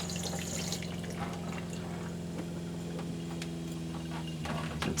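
Water runs steadily from an RV shower with a faulty cold blast and leak, a continuous close hiss with faint dripping ticks and a low hum underneath, no talking.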